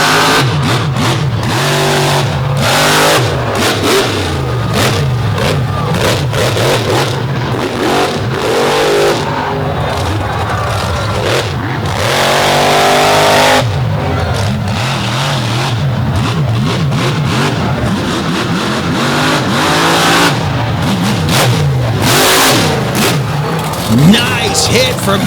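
Race cars at an all-star championship finals race on a track with infield walls roar and rev loudly and continuously, engine pitch rising and falling as they accelerate, with a commentator talking over them.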